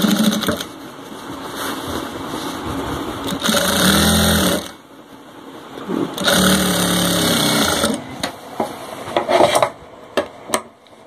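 A sewing machine runs a thin stitch over a seam on a wrestler's underwear garment, whirring in two sustained bursts with a pause between, then a few short clicks and stops.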